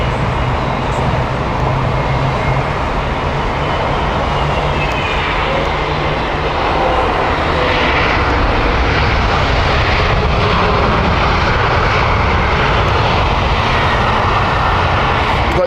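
An Aer Lingus airliner at Heathrow Airport roars loud and close, its jet engines filling the air in a constant broadband rush that swells slightly toward the end, with no voices.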